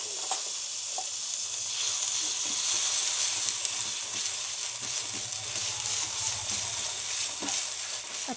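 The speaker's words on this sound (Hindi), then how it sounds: "अच्छे से हमें इसी तरह ही भूनना है इसे।" Ginger garlic paste with asafoetida fries in hot oil for stuffed brinjal, giving a loud, continuous sizzle with soft scraping stirs throughout; no voices.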